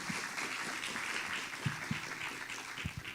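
Church congregation applauding, a faint, muffled spread of clapping from a distant crowd, with a few sharper nearby claps standing out toward the end.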